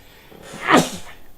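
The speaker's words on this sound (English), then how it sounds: "I'm going to sneeze." A single loud, close human sneeze, rising to a sharp burst and fading quickly in an otherwise quiet room.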